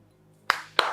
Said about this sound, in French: Mais non, non, n'applaudis pas.